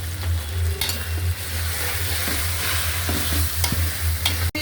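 Garlic paste, ginger paste and spices fry in a pan, with tomato added, giving a loud, continuous sizzle and frequent scraping stirs close by, with a low hum underneath.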